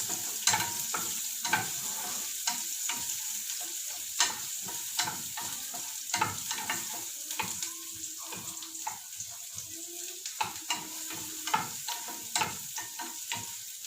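Onions frying in a little oil for homemade shawarma, a steady sizzle running throughout with repeated sharp scraping and stirring clicks of a utensil against the pan, fairly close and with no talking.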